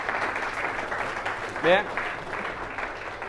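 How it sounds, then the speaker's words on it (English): A crowd claps at a motivational success talk, producing a sustained, moderately loud wash of applause, with one short spoken word from a voice near the middle. "Give yourself a round of applause."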